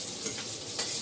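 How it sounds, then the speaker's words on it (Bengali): Food lightly frying in a pan, a soft continuous sizzle with a brief stir of the pieces, quiet and close. "এগুলো একটু ভেজে নিই হালকা করে"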